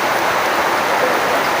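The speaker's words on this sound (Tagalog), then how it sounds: "Tingnan nyo naman ang ulan, ang lakas." Heavy rain pours down in a steady, loud hiss of dense drops, close and unbroken throughout, with no voices.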